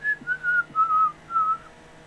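A person whistles a short melodic tune, a few clear sustained notes rising and falling, close and alone.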